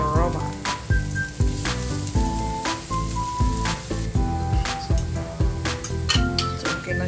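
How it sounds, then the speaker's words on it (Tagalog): Onion sautéing in a frying pan for a spicy fried egg dish, a steady sizzle running under continuous music with a tonal melody throughout. "Ayan, yung onion. So, gigisa natin."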